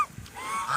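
A pet goose gives a single short honk, close and fairly loud, with no talking.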